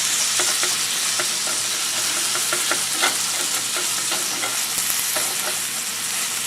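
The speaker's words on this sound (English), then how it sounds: "we'll let the meat continue to fry" Lean beef burger meat fries with cabbage in a pan, a loud dense sizzle throughout with faint scraping and clicking from stirring, nobody speaking.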